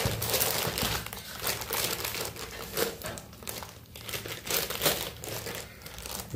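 Rolling pin pressing pumpkin dough flat through oiled paper for dhapate, a steady close-up crinkling and crackling of paper that rises and falls in soft swells over several seconds, with no voices.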